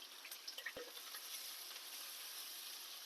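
Curry leaves dropped into hot oil for brinjal and chana dal curry hiss and crackle softly, with a few sharp pops early on, then a steady faint sizzle.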